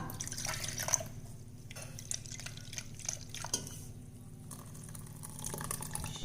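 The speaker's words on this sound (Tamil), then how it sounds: "கொஞ்சம் தண்ணி விட்டுக்கலாம்." Water is poured and dribbled into a vessel of ground flattened rice (aval) batter for instant sponge dosa, giving a faint, close trickle with soft drips and splashes in a quiet kitchen.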